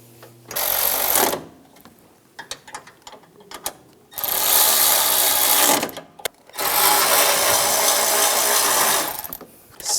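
Ratchet snugging down radiator bolts on a 2004-2009 Toyota Prius, heard as three loud bursts of rapid clicking, each lasting over a second, separated by short quiet gaps and a few scattered clanks.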